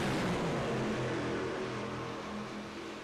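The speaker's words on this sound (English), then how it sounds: "As the trucks go loud." Race trucks on the oval at Kentucky Speedway roar off at the green flag, a dense, loud, sustained engine drone that eases off slightly toward the end.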